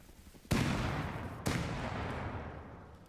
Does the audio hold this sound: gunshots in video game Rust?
yes